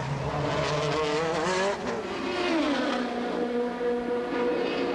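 Formula 3000 race cars at Estoril in 1996 roar past with high, sustained engine whine, pitch rising and falling through gear changes, loud and close over a steady track ambience.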